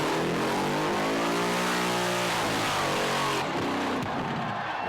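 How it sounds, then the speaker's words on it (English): A supercharged LS1 V8 in a Mazda 1000 burnout car revs hard at a motorplex burnout competition, a loud sustained engine roar with rising and falling pitch sweeps, then a sharp drop as the revs cut near the end. "It's the Mazda 1000, driven by Matthew Hughes, LS1 supercharged power."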